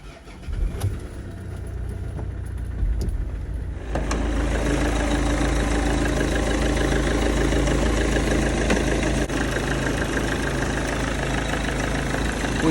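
A car engine cranks and starts, then settles into a steady, loud idle rumble close by.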